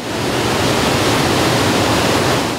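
Bely Mosty waterfall pours in a constant, dense, loud roar, close by and unbroken, with no voices over it.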